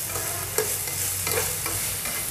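Chicken pieces fry in a hot frying pan with a steady, loud sizzle while a utensil stirs and scrapes through them in a few soft strokes.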